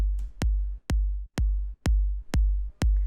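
Dry minimal techno kick drum with no saturator or drum bus, seven evenly spaced deep booming thumps in a steady four-on-the-floor pulse, each with a sharp click and a long low tail, loud and alone.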